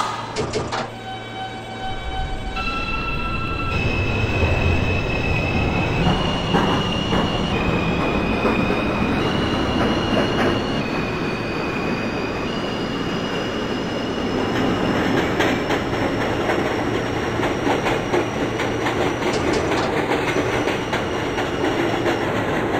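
A New York City R160 subway train on the Z line rolls steadily with constant rumble and rattling wheels, while rising electronic motor whines step up in pitch as it accelerates.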